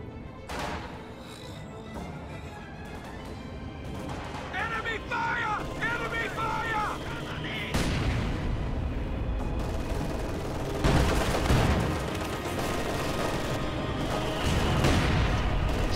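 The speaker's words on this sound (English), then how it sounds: "Soviet mortar fire getting pretty intense." Dense battle noise from a real-time strategy game: Soviet mortar rounds and gunfire in heavy overlapping bursts, rising in intensity toward the end, with a brief high chirping effect in the middle and no voice over it.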